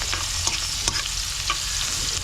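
Garlic and onion fry in a pan, stirred with a utensil that gives several light scraping knocks over a steady sizzle, close and without speech.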